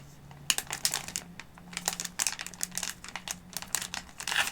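Delicate crinkling of plastic product packaging being unwrapped, a run of close, soft crackles and crisp rustles in irregular bursts with a faint low hum underneath and no talking.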